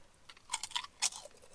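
Crunchy bites of Smith's Subway Meatballs Sub flavoured potato chips, a few crisp snaps spaced irregularly, close and fairly quiet with no talking.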